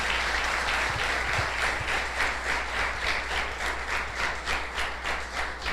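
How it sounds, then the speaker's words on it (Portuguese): A church congregation at a family worship service applauds loudly and steadily, a dense, continuous wash of clapping that lasts throughout with no talking over it. "Vamos aplaudir bem forte em nome de Jesus, o Senhor."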